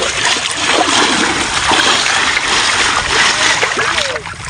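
Water splashes and sloshes continuously while fish are washed outdoors on a floating char, a loud close churning with trickles, mixed with faint voices.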